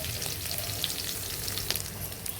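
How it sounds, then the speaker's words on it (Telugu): Garlic tempering frying in hot oil for a ridge gourd dal, a steady, close sizzle and crackle with a few brief louder pops, heard alone. "ఇదండి పోపు ఎంత వేగిపోయింది"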